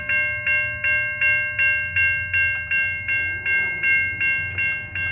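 A Safetran railroad crossing signal in Effingham, Illinois rings a steady, evenly spaced bell as a BNSF freight train approaches, with a low rumble of the train beneath, heard up close and without talk.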